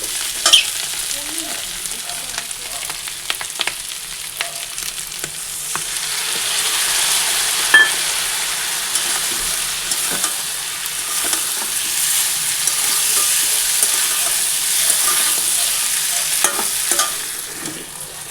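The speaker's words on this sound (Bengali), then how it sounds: "ওই যে জিরার গুঁড়ো আর কাজু কিশমিশ বাটা দিয়ে ভাজা হয়ে গেছে" Cumin powder and a ground cashew-raisin paste fry in a pan with a steady sizzle, while a spoon stirs and scrapes at intervals, close and fairly loud with no talking.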